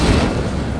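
The Incendio fire spell is cast in the Hogwarts Legacy video game, a dense, roaring burst of flame and booming noise that fills the whole moment loudly.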